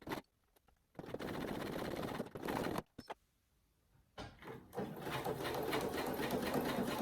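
A sewing machine stitches an elastic-waist skirt's back seam in several bursts of rapid, steady stitching, pausing briefly between runs, close and fairly loud.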